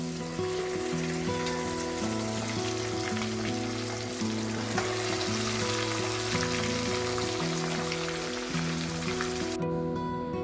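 Fish sizzles in a pan village style, a steady broadband crackle running the whole time beneath louder sustained music.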